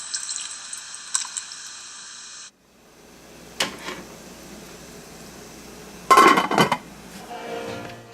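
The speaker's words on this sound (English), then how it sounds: "And stir it in." Chicken stock being stirred into a pot of soup with onions and carrots: a spoon clinks and scrapes against the pot with liquid sloshing, then a sharp metallic clatter near the end, all close and with no talking.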